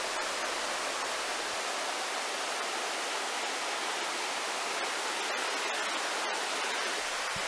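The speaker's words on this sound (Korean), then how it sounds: "12선녀탕 계곡의 물줄기입니다" The valley stream at Twelve Fairies Pool flows as a continuous, even hiss of rushing water, moderately loud and unbroken, with faint scattered clicks and no voices.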